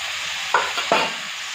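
Spices and tomatoes sautéing with turmeric in a pan for a dal-free idli sambar. Two brief stirring scrapes sound over a steady, soft frying hiss, with no voices.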